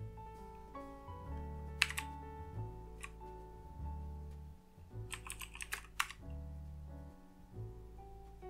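Computer keyboard keys tapped in short irregular bursts while entering terminal commands, fairly close and clear over a steady low hum, with a few louder clustered clacks.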